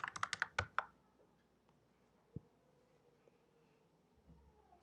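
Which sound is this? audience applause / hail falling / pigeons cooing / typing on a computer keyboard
typing on a computer keyboard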